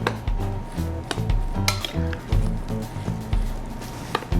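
Food is tossed in a pot with a pair of tongs, giving clattering metal clinks and soft squishy stirring in an uneven rhythm, close and moderately loud.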